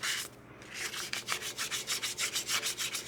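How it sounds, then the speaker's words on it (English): Sandpaper rubs against a spinning wooden pizza cutter handle on a lathe, a steady close hiss pulsing in regular strokes as the paper moves back and forth along the turned wood. "So we want to take the time to sand this properly."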